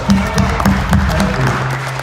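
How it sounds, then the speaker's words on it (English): An indoor audience at a Minneapolis town hall claps in a dense, steady burst of applause that carries on for about two seconds, loud and close. "Please clap for her."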